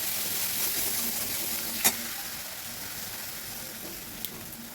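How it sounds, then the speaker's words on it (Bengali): Chole masala spice sizzling in hot oil, a steady close hiss with a couple of faint clicks and no talk, for vegetarian chole bhature. "ভালো করে মশলাটাকে আমি সাঁতলে নেব তেলের মধ্যে"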